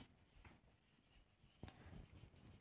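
Pen scratching on paper during an accounting lesson, with faint, soft strokes and light taps close by and a sharper tap at the end, no talk.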